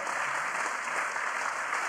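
Sustained audience applause fills a hall during an Italian talk, a dense even wash of clapping with no voice over it.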